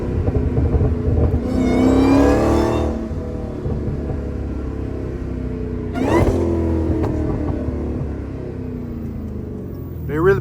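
Dodge Hellcat engine and exhaust, a deep rumbling idle punctuated by two sharp revving bursts and a brief blip at the end, loud and close, with a voice talking over it.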